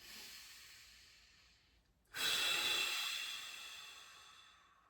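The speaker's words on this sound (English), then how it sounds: "Just a few times, we're gonna take a couple big breaths." A person breathes audibly during a core workout: a long, soft exhale fades out, then a sudden, loud, breathy inhale or exhale follows and slowly tapers, heard close with no talk.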